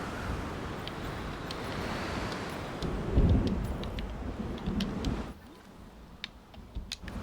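Thunderstorm ambience in the dinosaur park game Jurassic World Evolution 2: a broad rumbling roar of rain and wind swells with a heavy thunder crash, then drops to quieter background.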